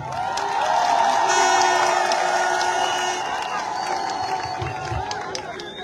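A crowd at a political campaign rally in Lebamba cheers and shouts in a loud, sustained roar that slowly fades, with scattered claps and voices underneath.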